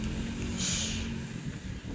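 A car in PUBG Mobile, played on an ASUS ROG Phone 3, drones steadily with engine rumble and a brief rising whoosh as it nears from behind, fairly loud and continuous.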